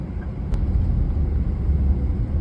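Road traffic in Iloilo City on a rainy day, heard from inside a moving car: a steady low engine and road rumble with a brief sharp tick near the half-second mark, no voices.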